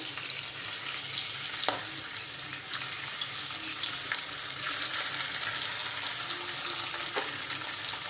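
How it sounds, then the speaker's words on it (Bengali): Rohu fish frying in oil in a wok over lowered heat, a close hissing sizzle that runs steadily throughout with occasional crackles and no speech. "এখন চুলার আঁচ কমিয়ে মাছটা ভালোভাবে ভেজে নিতে হবে"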